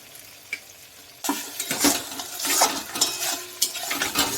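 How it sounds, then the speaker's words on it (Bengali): Shrimp go into hot masala for potol chingri and fry with a sudden loud sizzle, then keep crackling while a spoon scrapes and stirs them in the pan, close and busy, with no talking. "এবার আমি চিংড়ি মাছগুলো মশলার মধ্যে দিয়ে দেবো মশলার সঙ্গে আরও একটু মশলাটা কষতে হবে"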